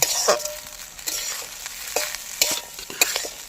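Fried rice sizzles in a hot wok while a utensil scrapes and tosses it in repeated quick strokes, close and crisp.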